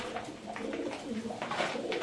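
Pigeons coo on a farm, soft rolling calls repeating in quick succession close by at a moderate level.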